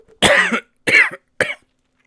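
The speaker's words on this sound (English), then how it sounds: "Excuse me while I cough." Three sharp coughs in quick succession, loud and close, with short pauses between them.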